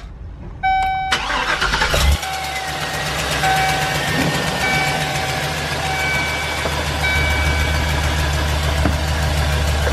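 A van's engine cranks briefly, catches and settles into a steady loud idle with a constant low rumble and a faint whine, heard close by without talk.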